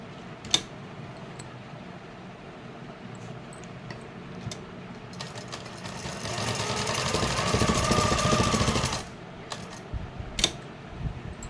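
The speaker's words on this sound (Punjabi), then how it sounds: "ਬਿਲਕੁਲ ਬੁਕਰਮ ਦੇ ਨਾਲ ਨਾਲ ਹੀ ਲਗਾਣੀ ਹੈ ਸਿਲਾਈ" A sewing machine stitching a suit neckline along buckram runs in one continuous whirring, rattling burst for about three seconds, loud and close, with scattered clicks and handling knocks before and after.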